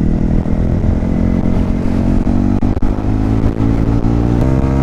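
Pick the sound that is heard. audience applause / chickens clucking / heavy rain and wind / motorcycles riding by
motorcycles riding by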